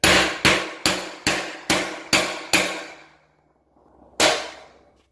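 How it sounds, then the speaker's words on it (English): Seven sharp metallic hammer taps on an old tub drain adapter in a steady rhythm, then a pause and one more strike, each ringing briefly and close. "I can just take my hammer and just start working it in."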